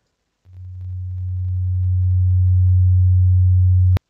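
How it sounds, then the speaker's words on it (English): Steady low sine tone from a Java-built audio synthesizer, held at one pitch after a key press, swelling slightly in level and then cut off abruptly with a click, alone with no voices. "Now we can hear a relatively quiet sine wave"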